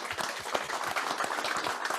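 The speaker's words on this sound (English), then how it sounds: "let's give a round of applause for our speaker" Applause for a speaker at a virtual Rotary Club of San Francisco meeting: a short run of dense, overlapping hand claps at steady strength throughout.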